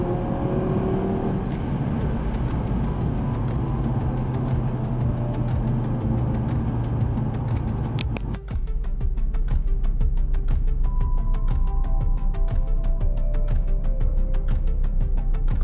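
An Audi TT driven hard using the paddle shifters produces a loud, continuous engine roar with a sharp break partway through, like a gear change, followed by steady pulsing revs.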